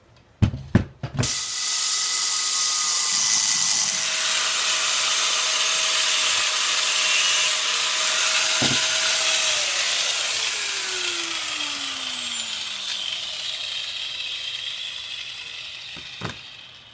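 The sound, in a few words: angle grinder cutting rebar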